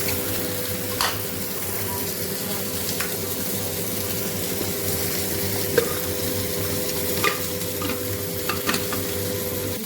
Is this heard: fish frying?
yes